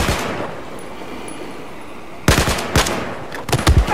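Gunfire in the video game Battlefield 4, a quiet low rumble for two seconds, then a loud burst of rapid shots followed by a few more sharp bursts close up.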